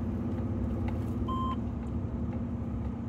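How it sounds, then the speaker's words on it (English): A single short electronic beep from an APRS tracker inside a car rises briefly over the steady, loud road rumble of driving on the Needles Highway. "And that beeping is my APRS tracker."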